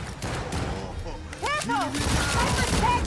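A Cyberpunk 2077 shootout crackles with rapid bursts of gunfire, while a voice talks over the shots and background chatter.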